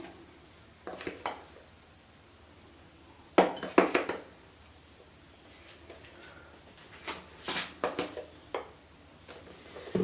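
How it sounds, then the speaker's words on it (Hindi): Utensils clink and tap against a bowl in scattered bursts while gram flour is added for a baingan pakora batter, close and fairly quiet with silent gaps between. "एक बर्तन मैंने ले लिया। अब मैं इसमें सबसे पहले बेसन ऐड करूंगी।"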